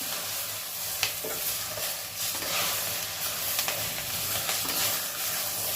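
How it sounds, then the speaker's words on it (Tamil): Moringa spinach leaves sauté in a hot pan with a steady, close sizzle and hiss, broken by the scrape and clatter of stirring. No voices are heard. "எப்படி நம்ம கீரைக்கு வதக்குவோமோ அதே மாதிரியே கீரையை எடுத்து போட்டுருவேன்"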